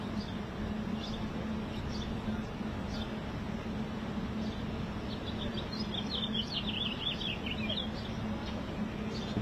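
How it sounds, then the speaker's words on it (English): Small birds chirping outdoors, faint scattered tweets and a brief twittering run over a steady low background rumble, with no speech. "Birds are chirping."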